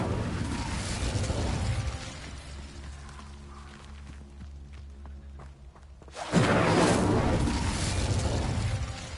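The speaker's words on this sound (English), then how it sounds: "Incendio." Spell effects in the Hogwarts Legacy video game, including the Incendio fire spell: loud whooshing bursts, then a quieter stretch with faint tonal hums and clicks, then a sudden strong fiery rush that swells and holds to the end.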